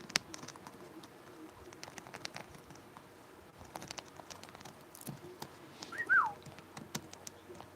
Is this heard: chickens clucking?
no